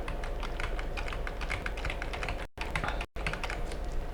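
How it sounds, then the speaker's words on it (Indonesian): Computer keyboard keys pressed in quick, steady runs of close, crisp clicks, heard alone with two brief gaps. "pada keyboardnya tekan saja Ctrl C, kemudian panah ke kanan, Ctrl V, panah ke kanan, Ctrl V"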